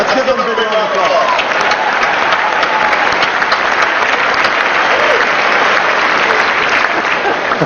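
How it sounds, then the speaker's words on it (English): Loud, dense applause from a large banquet audience at the White House Correspondents Dinner in a hotel ballroom, a continuous wash of clapping that holds steady throughout, with a brief voice at the start. "Let's give them a big round of applause."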